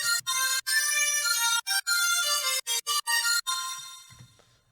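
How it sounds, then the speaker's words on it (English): Synth lead melody from an electronic track's build-up, a bright harmonic tone playing a choppy rhythmic line with sharp gated breaks, then sustaining and fading out alone. "So we added this lead that you can hear in the"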